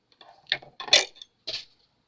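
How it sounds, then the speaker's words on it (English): Metal scissors dropped on the floor during a weaving project, giving a few sharp clattering clinks and a final bounce, close and otherwise quiet. "I dropped my scissors in the floor"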